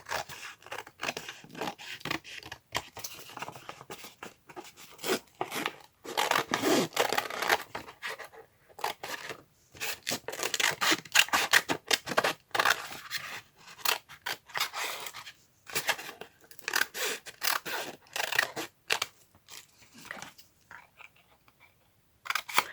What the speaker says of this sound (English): Also need to cut off a strip over here.